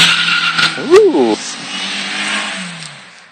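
A car drives fast past a house, a brief engine and tire swell that peaks and fades within a second or two, heard from outdoors with a person exclaiming over it.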